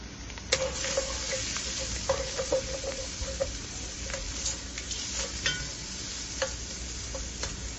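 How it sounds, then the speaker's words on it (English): Sweet yellow onions sauteing in olive oil, a steady close sizzle and crackle running throughout with occasional light ticks and scrapes of a utensil against the pan. "Go ahead and saute these until they get a little bit caramelized and nice and soft."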